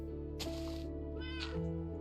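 A cat meows twice, a longer call followed by a shorter one about a second later, over a steady humming background.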